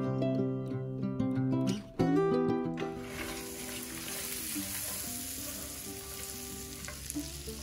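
Pecans dropped into a pan of melted butter and brown sugar, starting with a clatter and stirring, then settling into a steady, close frying sizzle that runs alone to the end.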